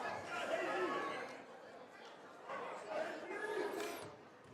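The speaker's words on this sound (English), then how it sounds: "The crowd quiets down." A high school basketball crowd at a 3A West Regional game murmurs and chatters in a gym before a free throw, a diffuse hum of many voices that eases and swells, with a whistle-like squeak near the end.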